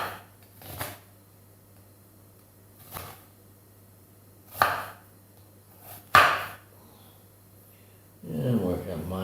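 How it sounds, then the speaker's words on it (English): A knife chops onion on a cutting board in a home kitchen while pasta is being made. A few scattered, muffled chopping thuds come at irregular intervals over a low steady hum, and there is handling noise near the end. "Okay, more onion chopping."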